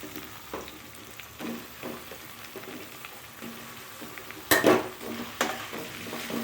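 Jackfruit pieces with curry leaves being stir-fried in a pan for a masala curry, a low sizzle broken by spoon scrapes and a louder clatter of utensil against the pan midway, with no talk.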